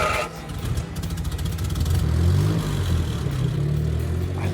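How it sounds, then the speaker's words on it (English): A 1962 Maserati engine running and revving, a rough mid-pitched rumble with clattering mechanical texture that swells and settles, continuous and close, with no talk. "I love the sound of an Italian engine."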